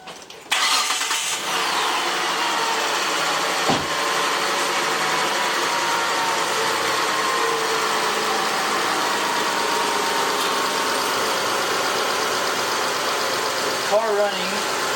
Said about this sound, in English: so start the car running.